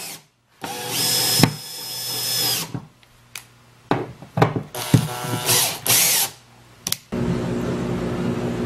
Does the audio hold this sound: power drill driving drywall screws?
yes